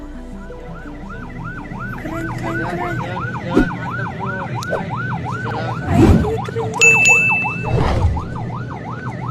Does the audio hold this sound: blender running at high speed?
no